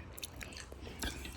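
Someone chewing food at close range during a home mukbang, with soft irregular bites and crunches and a louder snap at the end, over faint room noise and no talk.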